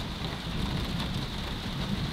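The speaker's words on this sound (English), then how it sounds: "testing out this tent in the rain over the past couple of weeks" Steady rain patters on a REI Flash Air 1 tent pitched in a backyard, a dense, continuous hiss of drops on the fabric with no voices.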